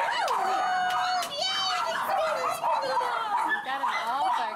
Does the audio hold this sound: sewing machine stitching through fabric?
no